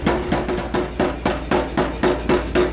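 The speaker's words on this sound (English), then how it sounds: "You can see that power hammer is such a champion." A power hammer pounds a forge-welded steel billet as it is drawn out, delivering steady, evenly spaced heavy blows, about four each second, loud and close.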